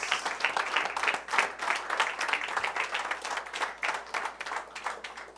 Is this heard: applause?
yes